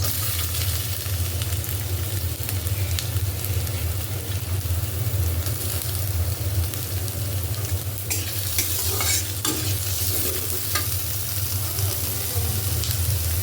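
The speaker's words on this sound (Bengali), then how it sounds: "রসুনটা একটু নাড়াচাড়া করে দিয়ে দিচ্ছি কুচানো পেঁয়াজ" Garlic and chopped onion frying and being stirred in a pan, for kochu pata bhorta, a steady close sizzle with scraping stir strokes throughout, louder clatter near the end, no speech.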